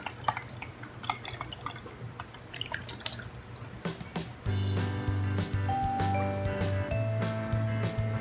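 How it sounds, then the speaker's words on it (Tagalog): Juice drains from fried onions in close, irregular drips and small splashes, and a steadier trickling, tonal sound enters partway through. "So, i-drain natin siya. Kasi yung juice lang ang kailangan natin."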